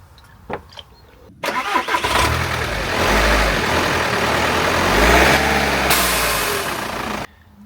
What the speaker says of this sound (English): Do you hear that turbo then?